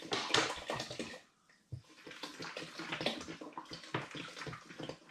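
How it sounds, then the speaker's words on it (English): Spring water pours into a brewing pan for an all-grain porter, a splashy, gurgling stream with a short break partway through, close and fairly quiet, with no talking. "I'm going to fill my pan right up with water, spring water, and I'm going to add an initial 5 litres"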